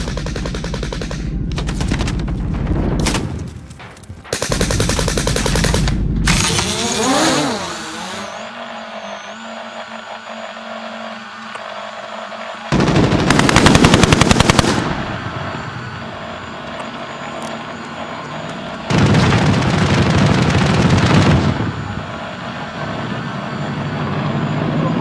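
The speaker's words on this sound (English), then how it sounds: "Shotgun" Shotgun gunfire in a video game: loud, dense bursts of blasts come in several separate stretches, broken by quieter spans of engine-like rumble and game noise.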